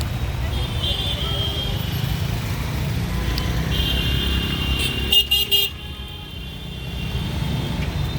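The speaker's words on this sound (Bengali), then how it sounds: "গাড়ি ঘোড়া সব যাচ্ছে।" Road traffic streams past near a bypass, with buses and cars rumbling steadily close by and several horn toots rising over the roar, while a voice talks faintly beneath.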